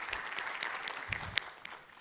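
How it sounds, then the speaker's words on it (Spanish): A faint, sparse scatter of hand claps greets Pilar, master of ceremonies at a Rackspace business event in Mexico City, with individual claps standing out briefly in a quiet room. "Por favor, un aplauso para Pilar."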